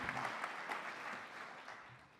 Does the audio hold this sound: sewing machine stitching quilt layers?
no